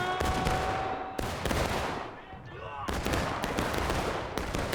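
Musket and rifle fire in a Civil War video game match, several sharp shots cracking out in bursts with pauses between, loud and fairly close, with a faint voice talking in the background.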